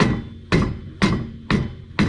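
Five heavy, evenly spaced blows of a rubber hammer on a car's CV axle, about two per second, each a sharp thud that rings out briefly.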